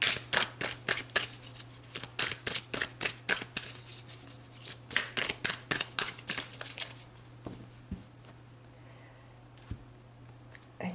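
Tarot cards are shuffled and cut, a rapid run of crisp riffling flicks that thins out into a few scattered taps and slides, close and fairly quiet.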